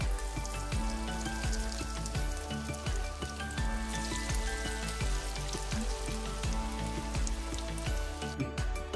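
Rolled white sandwich-bread pieces frying in hot oil, a dense, steady crackling sizzle with popping bubbles running continuously and close, with no voices.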